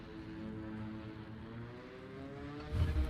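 Carrier aircraft engines in the naval battle game World of Warships give a steady, droning propeller hum at moderate distance, rising into a louder rumble near the end, with no talking.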